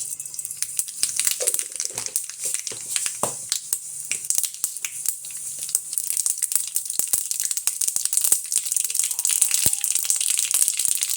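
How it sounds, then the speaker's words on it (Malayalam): Mustard seeds splutter and pop in hot oil in a pan while a Kerala-style mango pulissery is cooked, a dense run of sharp, close crackles and snaps over a faint sizzle, with no talk. "നമുക്ക് ആവശ്യത്തിനുള്ള കടുക് ഇട്ട് കൊടുക്കാം"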